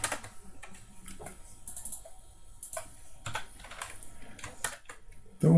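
Rapid, irregular keystrokes on a computer keyboard, tapped close by with short pauses between bursts and a heavier thump near the end.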